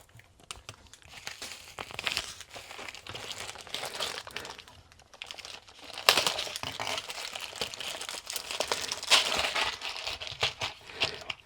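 A plastic bag of small computer heatsinks crinkles and rustles as it is handled and shoved aside, with bursts of crumpling and light metallic clinks up close.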